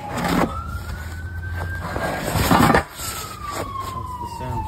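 An emergency vehicle siren wails past in Orlando, its tone sweeping up and then down under traffic noise, moderately distant, with a short louder burst in the middle.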